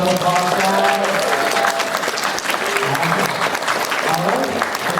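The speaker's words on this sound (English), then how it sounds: "Let's give them a round of applause, guys." Audience at an anime convention Sailor Moon panel in Toronto claps and cheers in a loud, continuous wash, with voices and tonal sounds woven through the applause.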